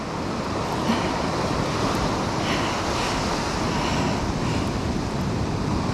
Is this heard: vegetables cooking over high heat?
no